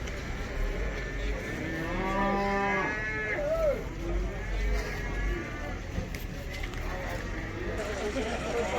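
Cattle low repeatedly at a busy livestock market in Karabulak, with drawn-out moos rising over a steady crowd murmur while people talk and animals shuffle nearby.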